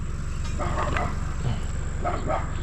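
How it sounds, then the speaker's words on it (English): A dog barks a few times in the distance over a constant rumbling engine drone, the barks faint and spaced apart. "Somebody's barking at us."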